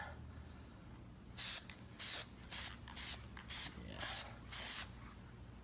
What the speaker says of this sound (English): So I will go ahead and spray the inside